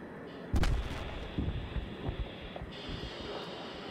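Battlefield 3 combat, with a sharp loud explosion followed by several more distant blasts and thuds over a steady aircraft-like drone, and a faint voice now and then.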